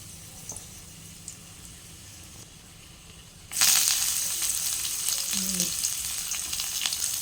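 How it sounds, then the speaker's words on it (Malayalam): Mustard seeds and fenugreek hit hot oil and burst into a loud, steady sizzle that continues to the end, following a few quieter kitchen sounds. "കുറച്ചെണ്ണ കടുക് ഇട്ട് ഇനി അല്പം ഉലുവ ഇട്ട് അതിട്ട്"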